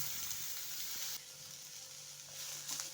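Onion slices frying in a spoonful of oil while a Khandeshi shev bhaji masala is prepared, a soft steady sizzle throughout that drops slightly partway through and then rises again, with faint occasional stirring taps.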